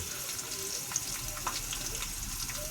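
Food sizzles steadily in hot oil in a home kitchen, a continuous close hiss with faint stirring scrapes and no voices.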